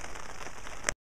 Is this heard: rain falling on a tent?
yes